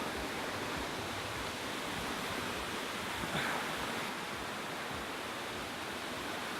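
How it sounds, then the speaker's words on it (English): A waterfall in Japan swollen after Typhoon Trami roars as a dense, continuous broadband rush of falling water, loud and steady with no voices. "This is the waterfall."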